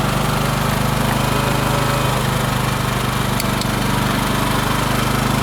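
A Champion 73001I-E 3.5 kW inverter generator runs steadily and loudly at close range, a constant mechanical drone with a faint click partway through and no voices.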